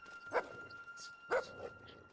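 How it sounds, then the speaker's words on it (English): A dog in the video game Fable 2 barks twice, in two short, sharp yelps spaced about a second apart, fairly close, with a steady game ambience underneath. "Yeah, of course the dog."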